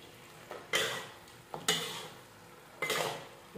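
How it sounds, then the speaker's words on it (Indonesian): Meat being stirred into a spicy rica rica chili paste in a pan, with a few scraping spoon strokes against the metal over a soft sizzle, moderately quiet and close. "Ini saya kasih masuk dagingnya, kita aduk sampai dia rata ya"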